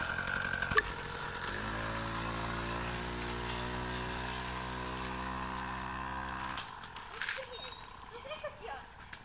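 A gasoline-engine adult kick scooter with a centrifugal clutch idles and runs nearby, a steady buzzing two-stroke drone after a brief start, cutting off near the end.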